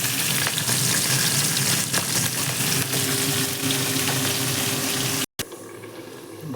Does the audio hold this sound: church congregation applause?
no